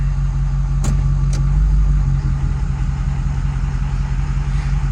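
A Ford 6.0 diesel truck engine running with a misfire on cylinder 6, a steady low rumbling idle heard close and alone, with two brief sharp clicks early on.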